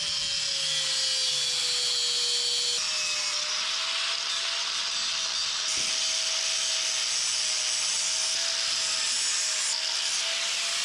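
A power tool trims the overly wide base of a shock absorber on a 1984 Chevy S-10 truck, giving a close, loud, steady high-pitched grinding whine that runs unbroken from start to finish with no talk.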